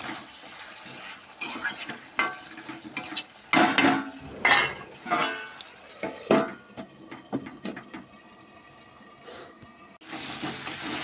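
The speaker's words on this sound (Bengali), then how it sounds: "এবার আমি আলুগুলো দিয়ে দেব," Potatoes being added to cooked meat in a pot, then covered: close, loud clatters and scraping of utensils against the pot, with a steady sizzling bed underneath and a lid-like clank toward the end.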